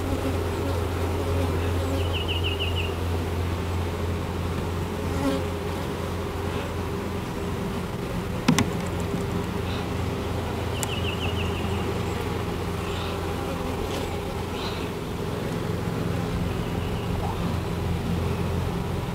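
Honey bees and drones buzz steadily at an open hive during queen cell work, a continuous near drone of wings with brief brighter insect passes and a faint low hum beneath.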